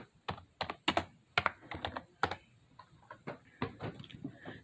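Close keyboard typing plays out as irregular quick clicks and clacks in uneven clusters, with short pauses between bursts.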